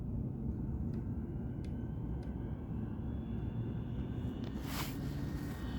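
An Arrma Felony RC car with twin turbo setup runs at full throttle, a steady, high-pitched motor roar over a rumbling background, with a sharp rising whine as it passes near the end.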